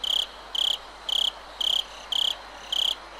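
Crickets chirp in the video game Higurashi, six evenly spaced bright trilling pulses about half a second apart over a soft, steady background hiss, with no voices.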